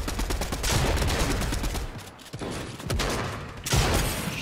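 Video game gunfire, fast automatic bursts that rattle almost continuously, dropping out briefly twice before resuming at full volume.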